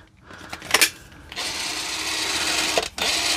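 A DeWalt DCF899 impact wrench on speed 3 that lacks power, with a trigger click and a brief spin-up, then a steady high whirring run that dips briefly and resumes, close and loud.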